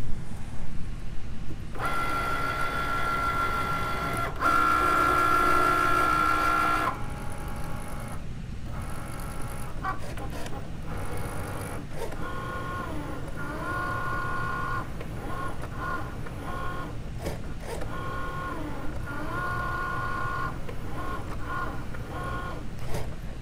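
A Cricut cutting machine cuts glitter material, whirring and buzzing steadily up close with shifting motor tones and brief pauses as the carriage moves back and forth.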